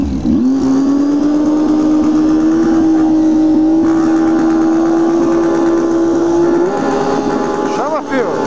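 A motorcycle engine revs and holds at a high, buzzing pitch for several seconds, then drops with a few quick blips near the end, loud and close.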